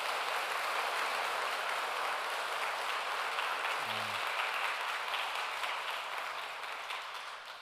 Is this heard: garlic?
no